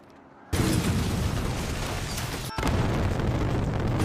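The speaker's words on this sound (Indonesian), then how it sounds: "Ledakan terjadi." A bomb detonates in a film scene with a sudden loud broadband blast after a quiet lead-in, followed by sustained roaring rumble, a brief dip, and a second surge of heavy explosive noise.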